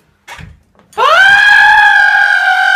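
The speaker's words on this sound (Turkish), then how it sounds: "hangi özel tasarımı görünce çığlık attı" A person lets out a long, loud, high-pitched scream that holds steady for nearly two seconds, preceded by a brief shout, close to the microphone.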